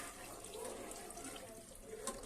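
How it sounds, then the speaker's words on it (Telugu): A soft, steady stream of water runs into a pot of taro and raw mango tamarind stew, quiet and continuous over a couple of seconds. "సరిపడినన్ని వాటర్ వేసుకొని"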